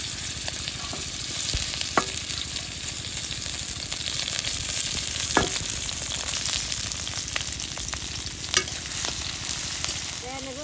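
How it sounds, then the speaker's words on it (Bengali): Garlic and green chilies fry in a little oil with a steady, close sizzle that fills the whole stretch, broken by a few sharp knocks of stirring. "রসুন আর কাঁচা মরিচটা দিয়ে দিব।"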